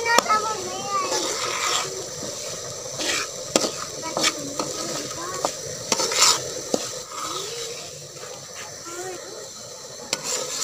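Semolina roasting in hot ghee in a pan as a spoon stirs it, repeated scraping strokes over a soft sizzle, with a voice and talking in the background.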